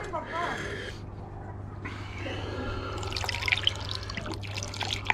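Liquid is poured off from gold-refining filters indoors, a light trickling and dribbling of water that comes and goes in short runs with small drips, fairly faint and close.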